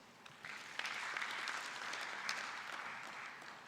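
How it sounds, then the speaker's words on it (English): An audience at a live-streamed panel session claps steadily after a call to reward the panelists and discussants, a broad wash of handclaps rising after a soft start and holding for several seconds at moderate distance. "you all deserve a big round of an applause"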